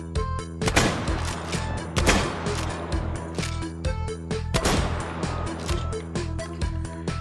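Shotgun shells fired in the VR shooter H3VR: a few sharp, loud blasts spaced a second or two apart, each with a short ringing tail over steady game background noise.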